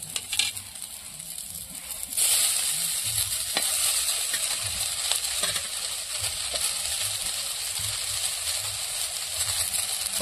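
Lai leaves frying in a pan with garlic and green chili, a bright continuous sizzle that swells after a couple of seconds, with occasional stirring scrapes and clinks.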